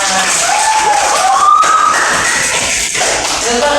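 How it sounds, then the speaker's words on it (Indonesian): Children in an elementary classroom clap their hands together in a dense, steady burst of applause that fills the room, with a few voices calling out over it. "tepuk tangan"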